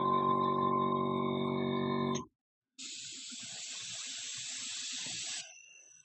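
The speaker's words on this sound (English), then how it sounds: "Keep the airbrush moving." An airbrush sprays a thin coat of black metal paint onto a miniature sword, a steady close hiss lasting a few seconds that follows a humming tone and a short gap.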